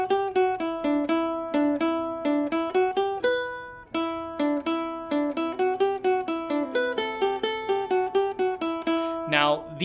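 Ukulele picks out the lead riff of a song as a brisk run of bright, evenly spaced plucked notes, played solo and close with no voices.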